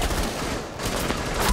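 Light machine gun fire in Rainbow Six Siege, rapid rattling bursts, moderately loud and sustained across the short stretch, with no speech.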